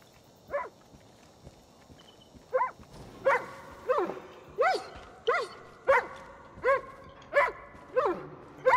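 Repeated dog barks from Far Cry New Dawn, at first spaced apart and then coming in a steady, evenly timed run of sharp, fairly close barks, with no talk over them.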